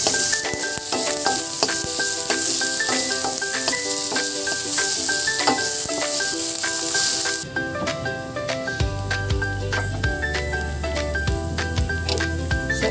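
Six cloves of garlic sauté in a pan, giving a loud, steady, continuous sizzle with crackling pops. The tone shifts and turns a little quieter about halfway through.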